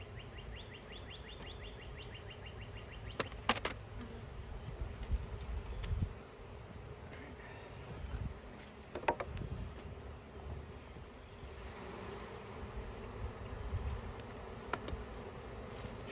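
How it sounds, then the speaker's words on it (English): A soft, continuous buzz of many honey bees hums in the background as they are shaken into a box, with occasional sharper thumps and a faint bird chirp early on. "I'll shake all these bees in here."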